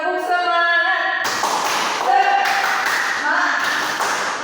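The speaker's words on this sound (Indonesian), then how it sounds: "Tepuk semangat." A classroom of pupils performs the 'tepuk semangat' clapping routine, sharp rhythmic claps bursting out in unison, mixed with children's voices chanting together.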